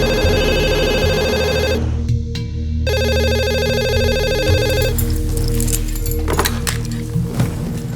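A telephone rings repeatedly in a rhythmic electronic pattern during a crime drama scene, loud and close with a brief gap, then a click as the call is picked up and background sounds continue.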